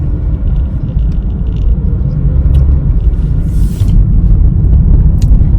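A car drives through Atlanta traffic, a loud, steady low road rumble filling the cabin with no clear breaks, just continuous engine and tire drone.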